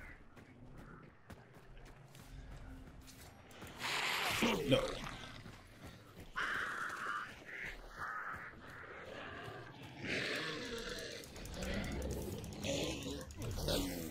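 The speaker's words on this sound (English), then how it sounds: "Oh, chill. Birds." Crows caw in the Hunt: Showdown video game, flushed into a brief flurry of calls partway through, set against game sounds and people talking over them.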